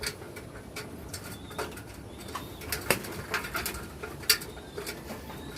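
Racing pigeons coo and shuffle close by, soft throaty calls mixed with light pattering and occasional wing flaps, fairly faint and steady.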